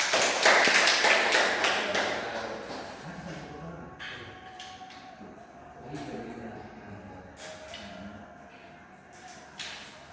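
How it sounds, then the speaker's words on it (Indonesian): Students applaud in a classroom, a burst of clapping that fades after a few seconds, followed by scattered taps and thumps while voices murmur in the room. "Baik, aplaus."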